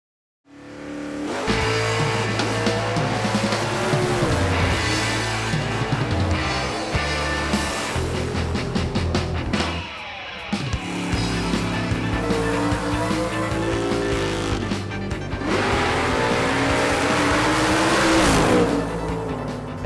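Loud drag racing cars roar and accelerate hard past the listener on four-to-five-second passes, with tire squeal and engine noise rising and falling in bursts, no voices.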